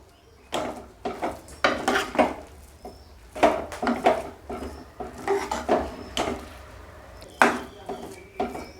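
Vegetable rice fresh from a pressure cooker is mashed in the pot, with a series of close, sharp metal knocks and scrapes landing in uneven bursts, quiet gaps between them.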